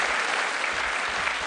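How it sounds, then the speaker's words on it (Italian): A studio audience at an Italian television show bursts into thick, even applause, a loud continuous wash of clapping hands with no breaks. "fatevi un bel applauso per scaldarvi l'anima"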